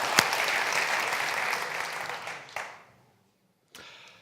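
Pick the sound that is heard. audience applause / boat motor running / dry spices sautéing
audience applause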